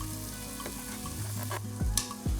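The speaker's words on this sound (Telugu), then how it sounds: "ఒకసారి కలిపేసుకుని ఇలా ఒక 5 మినిట్స్ ఇలా మగ్గించుకుందాము." Sliced onions sizzle steadily in a hot pan while being sautéed for an ivy gourd and onion dish, a continuous bright frying hiss with a couple of louder stirring scrapes near the end, no voices.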